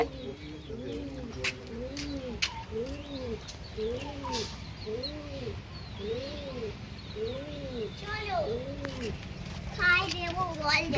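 Pigeons coo in a repeated, rhythmic series of soft rising-falling calls close by after being let out, with faint chicken sounds and children's voices in the background.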